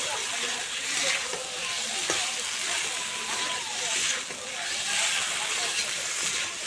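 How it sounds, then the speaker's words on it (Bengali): Pasta is stirred in a frying pan, giving a steady close sizzle with soft scraping and sloshing movements throughout. "তো একটু নেড়ে চেড়ে নেবো এইভাবে।"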